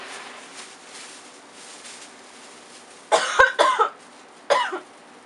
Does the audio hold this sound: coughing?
yes